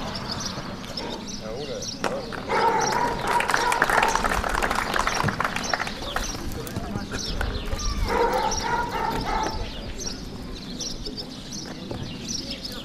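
A police detection dog trained to find explosives, drugs and hidden cash barks at the end of a training course demonstration, sharp barks over outdoor background noise while a voice talks over it.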